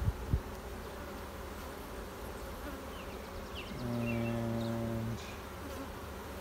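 Honeybees drone around an open hive during a honey harvest, a constant close buzz that swells as one bee passes near, with a single brief spoken word.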